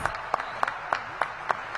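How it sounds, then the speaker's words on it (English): Sparse applause at a citywide public safety meeting, a few distinct claps landing in a slow, irregular rhythm over a quiet room, only moderately loud. "Give yourselves a round of applause."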